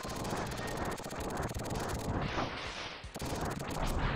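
Fire wave weapon torching and destroying a ship in the Mega Man X video game, dense continuous crackling blasts and rumbling explosion noise, loud and sustained throughout.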